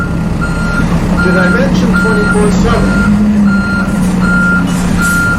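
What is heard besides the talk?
trucks reversing with beeps at logistics warehouse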